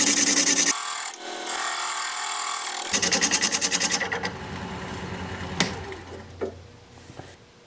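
A scraper shears across an odd-shaped piece of mystery wood spinning on a lathe, giving a loud, steady rasping scrape with a brief rhythmic chattering stretch, close up and uninterrupted.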